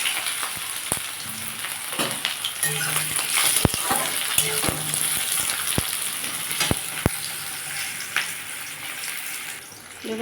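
Onions and dried chili frying in hot oil as a tempering for a potato and egg dish, a steady close sizzle with scattered sharp clicks and scrapes of stirring throughout.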